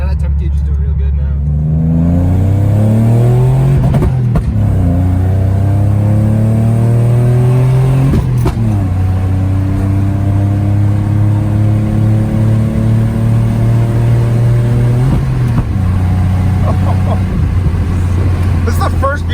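Engine of a 1994 Nissan 300ZX pulling through several gears while cruising, each run of rising revs broken by a shift, loud and steady from inside the car, with voices talking over it.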